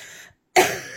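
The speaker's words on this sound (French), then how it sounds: "Oh, j'en tousse." A single sharp cough from a woman bursts out right after a brief silence, close and fairly loud, then trails off quickly.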